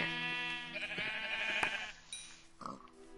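Sheep bleat in the Minecraft video game, one long wavering bleat filling the first two seconds and a shorter call near the end, close and fairly loud with no talk over them.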